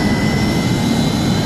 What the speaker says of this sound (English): The right engine is now started.